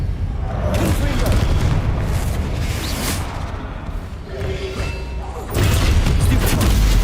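A Confringo fire spell bursts in Hogwarts Legacy with deep, rumbling booms and blasts layered over continuous battle noise, with a heavy thud surging near the end.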